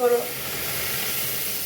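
After a brief voice at the start, a loud steady hiss and sizzle of water hitting a hot pan just used for frying fish fills the rest.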